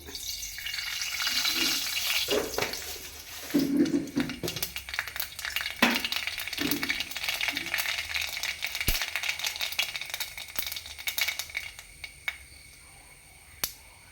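Mustard seeds crackle and pop in hot oil, making a dense early sizzle with sharp rattling bursts that thin out toward the end, plus a few sharp clicks; close, with no speech.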